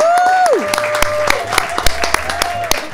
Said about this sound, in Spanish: Te quiero aplaudir al aire.